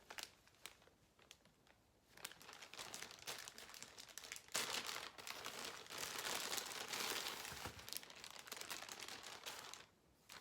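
Packaging for an 18-inch natural black body wave glueless HD lace wig crinkles and rustles as it is handled during unboxing, with sharp crackles at first, then a longer stretch of dense, close crumpling.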